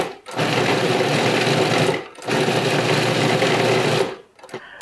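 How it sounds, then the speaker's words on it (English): A food processor chops slices of bread into breadcrumbs in two loud, close bursts of about two seconds each, the motor whirring steadily with a brief pause between them. "we'll put them in the food processor because basically at this point we're just looking to make breadcrumbs"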